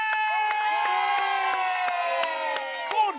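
Crowd at an outdoor stilt relay race event cheering and shouting together, a loud sustained wash of voices with rhythmic chanting pulses, close and continuous throughout.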